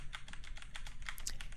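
Computer keyboard keys are pressed in a quick, even run of soft clicks, faint and close, with no talking.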